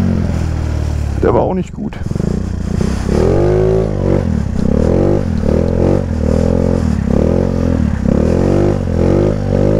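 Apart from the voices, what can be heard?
Rex 80cc scooter engine revving during wheelie attempts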